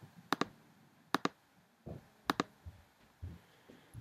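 Mouse clicks on a computer in drawing software menus: three crisp double clicks spaced about a second apart, close and clear, with soft faint knocks between them and no talking.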